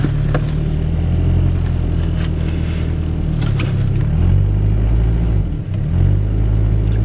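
A 1991 Chevy S10 with a 2.5 engine and 332K original miles revs steadily and loudly in drive while its wheels spin in snow, the engine pitch rising and dipping as it struggles for grip.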